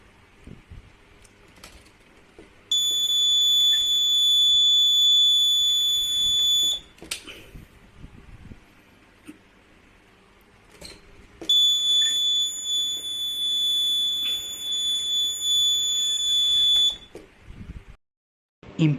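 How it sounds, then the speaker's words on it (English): A homemade door alarm built with a bike buzzer sounds a loud, piercing high tone in two long bursts of about four and six seconds, separated by a quieter gap. "The bike buzzer can make a sound around 90"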